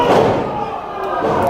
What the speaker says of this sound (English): Listen to the pop of the crowd